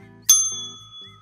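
A beer bell, a novelty gift, struck once with a bright, sharp ding that rings on and slowly fades, close and clear against a quiet low hum.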